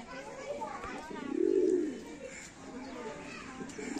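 Madras pigeons, two males among birds in a loft, give a low cooing swell near the middle, with faint background voices and bird calls throughout.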